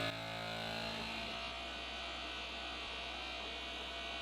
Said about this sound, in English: See what happens when we chuck this vacuum on.